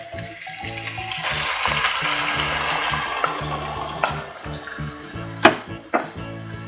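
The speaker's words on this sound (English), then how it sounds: "Adding onion puree." Onion puree tipped into a pan of oil-cooked golden ginger garlic paste for chana masala, giving a steady wet sizzle and frying hiss with a few sharp clinks and a splashy burst near the end, close and fairly loud.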